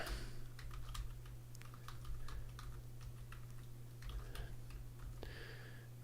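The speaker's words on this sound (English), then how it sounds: "I think I'm going to type it." Soft, uneven keystrokes as someone types on a computer keyboard, quiet and close over a steady low electrical hum, with a brief brighter tone near the end.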